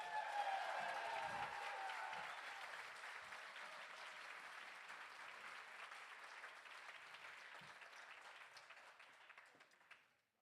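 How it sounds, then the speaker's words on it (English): An audience at a spring community event claps together, starting fairly strong and slowly fading over about ten seconds before cutting off. The sound is distant and soft, with a few louder individual claps. "So I'm going to say thank you for being here, and you're going to clap."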